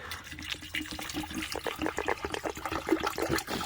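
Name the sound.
water being poured into a camping pot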